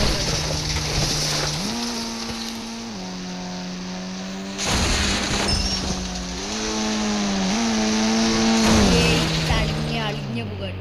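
A Bugatti supercar in GTA V drives along, its engine tone droning and climbing in steps as it shifts gears, with a surge in revs partway through and a steady whoosh of wind behind it.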